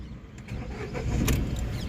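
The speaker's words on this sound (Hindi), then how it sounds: "तो सबसे पहले मैं कार को कर लेता हूँ स्टार्ट।" A Hyundai Eon Magna Plus small petrol car starts up: a short cranking burst settles into a steady idle, close by and alone.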